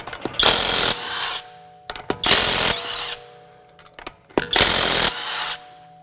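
A Kobalt 24-volt brushless mid-torque 1/2-inch impact wrench works lug nuts in three loud, rapid hammering bursts, each a second or so long, separated by brief pauses with small clicks.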